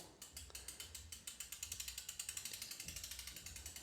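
The rear wheel of a Trek District bicycle turning freely, its hub giving a fast, even run of quiet ratcheting ticks, close and alone.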